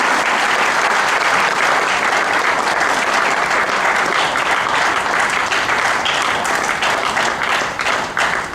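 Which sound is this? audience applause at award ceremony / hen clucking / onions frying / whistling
audience applause at award ceremony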